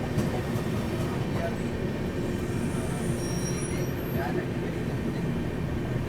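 Punjab Mail train overtaking a passenger train outside New Delhi, a continuous loud rumble and clatter of rail cars heard close from aboard a moving train.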